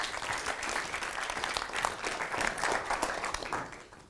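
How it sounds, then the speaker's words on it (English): Audience applause at a TEDx talk in Oldham fills the room as dense, sustained clapping from a crowd. It stays loud and even for about four seconds before tapering slightly at the end. "Round of applause, please."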